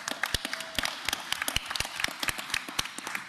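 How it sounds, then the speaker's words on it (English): Audience at a school board of education meeting breaking into applause, a short burst of sharp, fairly close claps from a modest crowd with no talking. "we can clap for them."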